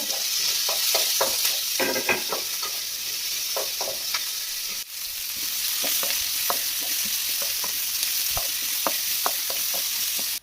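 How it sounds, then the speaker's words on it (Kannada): Tomatoes lightly frying in a pan over a gas flame, giving a steady close sizzle with frequent scraping and stirring clicks throughout, briefly dipping midway. "ಟೊಮೊಟೊ ಸ್ವಲ್ಪ ಲೈಟಾಗಿ ಫ್ರೈ ಆದ್ರೆ ಸಾಕು"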